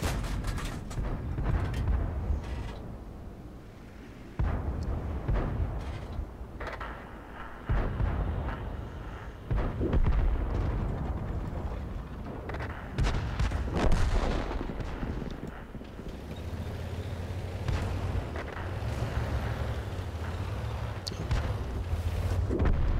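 Tank cannons firing in the World of Tanks video game, loud booming shots recurring every few seconds over a rumbling battlefield backdrop, with no talk.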